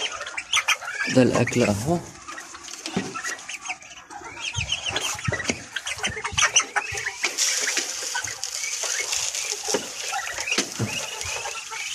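Ducklings and grown ducks on a farm quack and peep in a busy, overlapping chorus, with scuffling on the floor and someone speaking over them.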